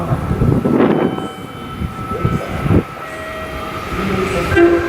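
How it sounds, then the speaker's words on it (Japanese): An eight-car Meitetsu 2000 series μSKY train passes through a station, sounding a short horn blast early on, with the roar of its passage close by and a station chime or announcement tone near the end. "通過電車です。"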